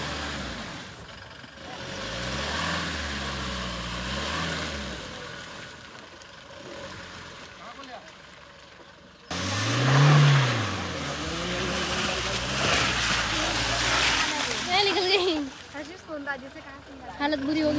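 A Toyota Fortuner stuck in mud revs its engine in surging, droning bursts, growling louder and rising in pitch partway through as it strains to pull free, with people talking over the engine noise.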